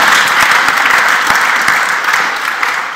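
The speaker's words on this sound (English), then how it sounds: "we can give a round of applause to our brilliant panel" An audience at a Cambridge Union panel event gives the panel a round of applause: dense, steady clapping from a full room that holds its level throughout, with no voices breaking through.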